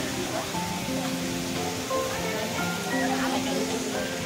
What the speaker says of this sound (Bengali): বাকতাং ফলসটা দেখুন, ওই উপর থেকে ফলস জল পড়ে এইখানে আসছে মিশছে।